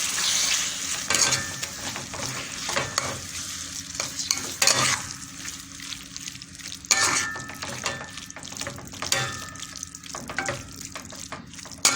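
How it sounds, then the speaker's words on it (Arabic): Grated tomatoes poured onto meat frying in a pan, giving a steady close sizzle with stirring scrapes and splashy bursts, no talk. "هنا بقى عندي طماطمتين بشرتهم، هنزل بيهم بقى كده على اللحمه"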